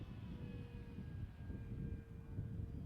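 An E-flite Draco 2.0m RC airplane flies a big loop. Its faint, distant motor drone carries a thin steady whine and stays fairly even over low rumbling wind noise. Nobody speaks.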